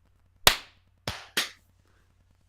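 Three sharp, separate group claps from a podcast crew clapping together on a spoken count, each a loud crack with a quick decay and the hits clearly out of sync, with no talking over them.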